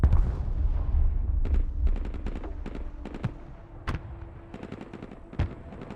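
Gunfire rakes a combat vehicle in the video game Broken Arrow: scattered sharp shots and short bursts crack over a fading low rumble, with a few louder impacts standing out.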